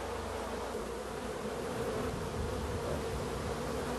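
Honeybees buzzing inside a hive, a dense continuous drone of many wings at close range, steady and loud with no voices.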